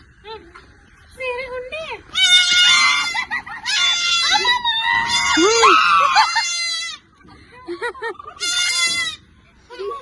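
Close, shrill goat bleats repeat in a long run, one cry after another, with voices chattering around them.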